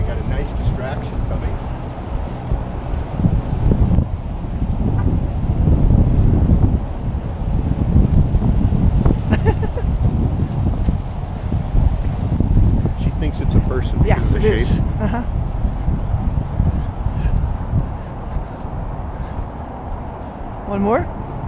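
Outdoor wind buffets the microphone in loud, uneven low rumbling gusts for the whole stretch, with a voice speaking intermittently over it.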